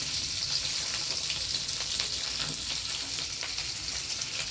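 Food frying in a pan with a steady, dense sizzle and crackle that carries on without a break, close and fairly loud with no talk over it.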